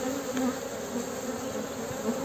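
Honey bees at a hive being fed pollen placed in the hexagonal comb cells hum in a steady, close, continuous buzz with no talking.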